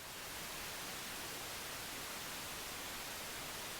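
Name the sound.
chicken frying, sounding like rain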